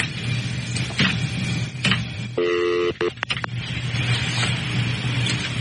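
Telephone voicemail tones sound alone: a short run of dialing and beeping tones, then a cluster of clicks, set against a faint steady hum.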